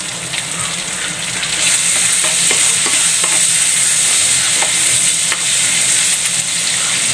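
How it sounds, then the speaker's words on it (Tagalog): Vegetables with white onion are sautéed in a pan, giving a loud, close, continuous sizzle with bursts of hissing and occasional clicks and scrapes of stirring, swelling after the first couple of seconds, with no talking. "Gigisa lang natin yung gulay guys para sakto lang sa budget guys"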